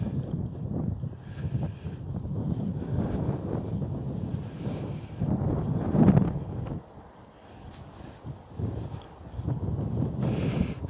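Wind buffets the microphone on an outdoor walking trail, a steady rumbling roar that rises and falls in gusts and eases briefly before returning.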